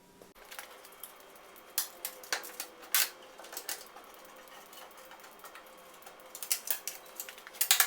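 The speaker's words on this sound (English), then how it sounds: "cutting the paper out with scissors" Scissors cut through a paper pattern on a workbench while it is trimmed for transfer to a sheet metal car panel, producing faint, irregular snips and crisp paper rustles that grow busier and louder toward the end, with no voices.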